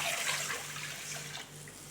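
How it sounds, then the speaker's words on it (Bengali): Water pours into a kadai while dal is being prepared, a steady close splashing rush that runs for about two seconds with no voices. "এবার আমি কড়াইতে জল দিয়ে দিলাম"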